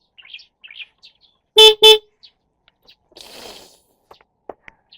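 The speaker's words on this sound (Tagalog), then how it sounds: "Magbubusina na lang ako." Two short, loud car horn honks in quick succession on a quiet street, with faint birdsong and light background noise around them.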